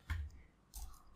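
Two soft, close computer mouse clicks about 0.7 seconds apart, faint against a quiet room, with no talking.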